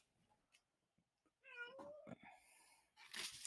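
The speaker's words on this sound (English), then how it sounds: "my cat has got all crazy with this energy suddenly" A pet cat meows in a rising, drawn-out call of about two seconds, fairly close and loud, ending in a harsher burst, with faint room noise and small clicks beforehand.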